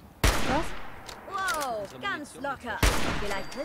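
Gunfire from a weapon in Fallout 4, two loud sharp shots about two and a half seconds apart, with someone talking between them.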